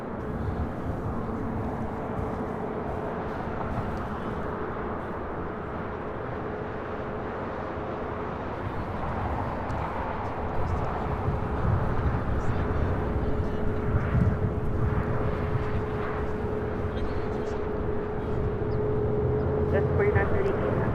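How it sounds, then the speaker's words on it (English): An Atlas Air 757-400 freighter arrives at LAX from Anchorage, a steady distant jet rumble with a faint sustained whine that swells slightly in the second half, under ongoing commentary. "Atlas Air, the 8610 coming up from Anchorage, a 757-400 freighter"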